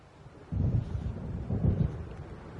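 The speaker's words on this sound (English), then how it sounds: "It seems there's a storm coming." Thunder from an approaching storm in the Alan Wake video game: two low, muffled rumbles rolling in from a distance over quiet wind.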